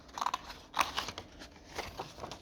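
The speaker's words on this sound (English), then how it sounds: "you can see removing a little bit at a time, just using scissors" Scissors snip through a paper stencil in short, crisp cuts, a quick cluster of close snips followed by slower, lighter clipping and faint crunching.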